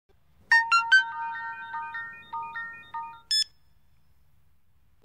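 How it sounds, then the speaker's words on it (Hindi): A phone ringtone plays a quick descending series of bright electronic tones, loud and close, ends with a short higher chirp, then falls silent. "अब फोन नहीं उठा रहा है। 2 रिंग पर कट कर रहा है"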